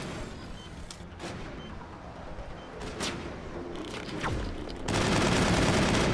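A demolition charge detonates in the Mass Effect video game, with a sustained roar of cracking blasts that surges into a louder wall of noise near the end.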